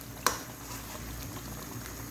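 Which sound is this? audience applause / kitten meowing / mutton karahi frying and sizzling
mutton karahi frying and sizzling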